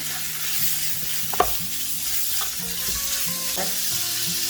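Onion and julienned pork frying in a pan with garlic for bam-i, a steady close sizzle with occasional stirring clatters of a utensil against the pan, no voices.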